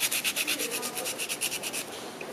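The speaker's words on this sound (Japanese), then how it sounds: "この辺大きめにもし削りたいっていう時は粗めのペーパーじゃないとやっぱなかなか大変な作業になるんでね" A wooden fork worked over with coarse sandpaper, around 120 grit, to thin its thick middle section. The rough rasping rubs come in a steady quick back-and-forth rhythm, close and fairly quiet, with no talk.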